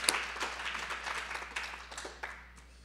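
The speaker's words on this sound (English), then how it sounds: "also give them a round of applause" An audience at a Martin Luther King Jr. birthday breakfast tribute applauds, moderately faint, fairly distant clapping that runs for a few seconds and then tapers off.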